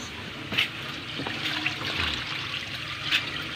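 Water pours into a cooking pot for chicken tinola, a steady splashing trickle heard up close and continuing throughout without any talking.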